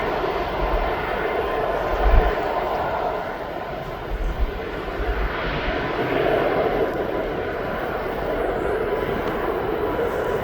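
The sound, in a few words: Ryanair airliner taking off at East Midlands Airport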